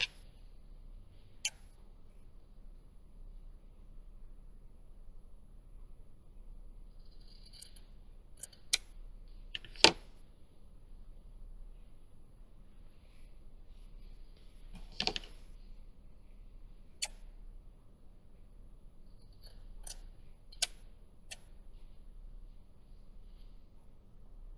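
Small scissors make a handful of scattered crisp snips while trimming a hand-embroidered fabric tag, each cut short and close, with quiet pauses between them.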